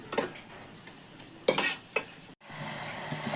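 Onion, tomato and masala frying in oil for Kerala beef curry: a close sizzle punctuated by a few scraping stirs and light clinks of a spoon against the pan, with one brief cut to silence.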